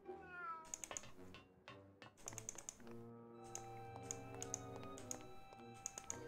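Cats in the video game Grim Fandango meow repeatedly over looping game music, several close, clear meows in quick succession alongside rapid keyboard tapping.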